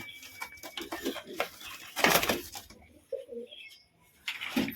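Pigeons cooing inside a cage after being paired male and female, a few soft low coos close by between rustling and handling noises, with a louder burst of movement midway.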